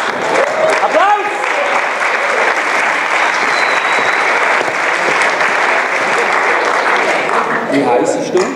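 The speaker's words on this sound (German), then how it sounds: "Applaus!" Audience applause at a live comedy duo show, a dense, steady clapping that fills the whole stretch, loud and close, with a brief vocal exclamation near the start.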